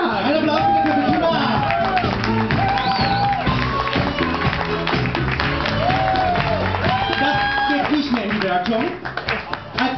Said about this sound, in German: Einen Applaus bitte für Tina!